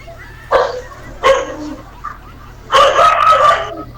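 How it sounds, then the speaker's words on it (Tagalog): A dog barks in a few sharp, separate bursts, then lets out a longer, busier run of yelps near the end, heard close and loud over a low steady background hum. "Aso ang tumahol."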